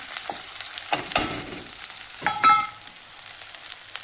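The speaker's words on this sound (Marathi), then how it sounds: "आता मी घेते कांदा टाकून कांदा हिरवी मिरची लसण असं टाकून घ्यायचं" Onion, green chilli and garlic fry in hot oil for a dry potato dish, with a steady sizzle and several crackling bursts as the pieces are stirred.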